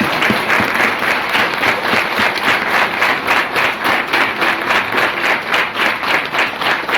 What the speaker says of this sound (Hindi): एक बार नारी शक्ति के लिए तालियां होनी चाहिए